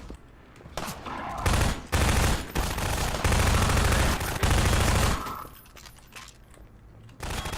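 Sniper gunfire in the Half-Life 2: Episode One game: a sustained stretch of loud, dense shots and impacts, with a few brief lulls between bursts and quieter tails at either end.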